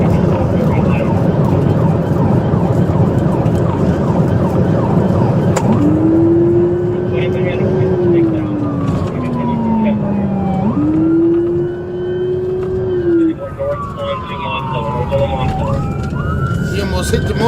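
A police car siren wails and yelps during a chase, rising and falling sweeps over loud traffic and engine roar, with overlapping tones from more than one unit and a voice talking over it.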